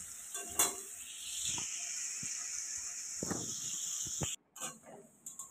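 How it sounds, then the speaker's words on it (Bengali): A steady sizzle of onions frying in a pan, with a few scraping stirs of a utensil, cutting off briefly near the end. "পেঁয়াজটা এখন আমি ভাজা ভাজা করে নিচ্ছি"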